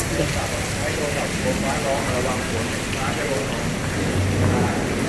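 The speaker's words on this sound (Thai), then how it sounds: "อยู่หลังบ้านฝนยังตกอยู่เลยครับ" Heavy rain falls steadily behind a house in Lat Phrao during a thunderstorm, a dense continuous hiss of drops close by, with muffled voices talking underneath.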